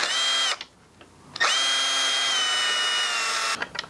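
Cordless power tool whirring steadily as it undoes a screw on a motorcycle mount, two sustained high-pitched runs separated by a short pause, close and fairly loud with no talking.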